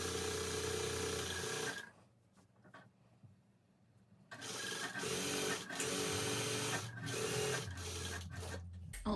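Home sewing machine top stitching fabric, a fast mechanical needle whir that runs, pauses briefly and resumes in steady bursts, close and fairly loud with no talking.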